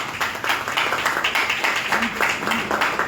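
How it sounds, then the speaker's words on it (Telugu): A church congregation at a Sunday worship service claps loudly and steadily for Jesus, rhythmic hand claps filling the room, with voices faintly mixed in. "గట్టిగా చప్పట్లు కొట్టండి యేసయ్యకి."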